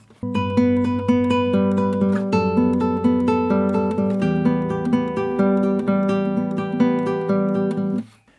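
Steady guitar chords ring out continuously for about eight seconds, the melody line barely standing out above the strummed accompaniment that overshadows it.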